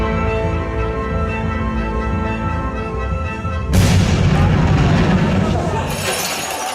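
An explosion sound effect plays within the music for a middle school dance performance. A sustained tonal passage is cut by a sudden loud, roaring boom that swells and rings on until the end.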